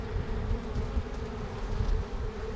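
Honeybees in a hive cleaning out cells, a steady, close, continuous buzz of many wings with slight swells in loudness and no talking.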